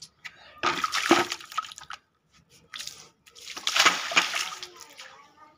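Water is poured from a half-filled bucket onto the ground behind plant pots, making two separate splashing, gushing bursts with a short quiet gap between them.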